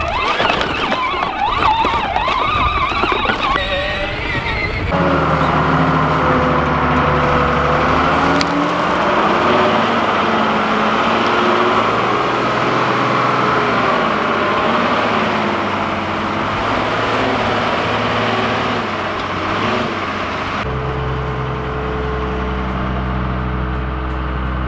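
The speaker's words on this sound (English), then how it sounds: "You think you can go through the muddy ditch? Yeah. All right, I'll follow you in the big tractor." A big farm tractor rumbles through a muddy ditch, its low engine drone steady and close throughout, with a louder, rougher passage near the start and a shift in tone toward the end.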